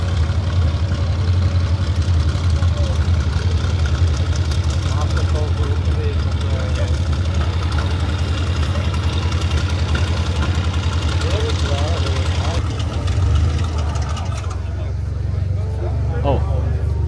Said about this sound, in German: The beast has started the engine.